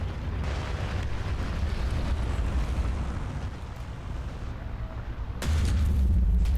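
A tank main gun fires with a deep, loud boom near the end of a War Thunder battle, rising over a steady low rumble of engine and battlefield noise, with no talk.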